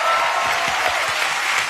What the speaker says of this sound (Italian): Possiamo fare un applauso alla mamma